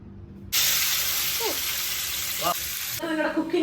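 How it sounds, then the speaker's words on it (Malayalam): Marinated fish sizzles loudly as it fries in hot coconut oil, a steady crackling hiss starting abruptly after a quiet moment and running throughout, with faint clinks of utensils near the end. "അപ്പൊ നമ്മള് നമ്മുടെ മാഗ്നേറ്റ് ചെയ്ത ഫിഷ് വറക്കാൻ പോവാണ്"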